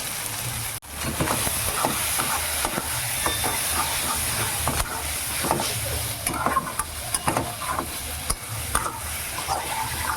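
Taro greens with prawns and garam masala frying in a pan, a loud continuous sizzle with repeated scraping stirs and occasional sharper knocks, close up and without speech.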